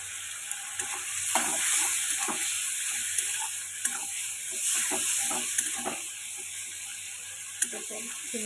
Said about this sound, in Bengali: দেখো চিংড়ি মাছ একদম ভাজা হয়ে গেছে লাল লাল করে